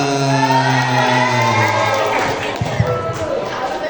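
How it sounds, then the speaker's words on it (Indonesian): A school audience at SMPK Frateran Malang bursts into applause and cheering for a teacher, a crowd of claps and whoops rising beneath a sustained voice that fades as the clapping swells. "tepuk tangan guys untuk guru idola kita"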